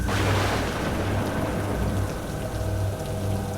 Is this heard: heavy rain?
yes